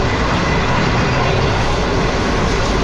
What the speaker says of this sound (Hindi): बहुत स्मूथली ट्रेन ने ट्रैक चेंज किया है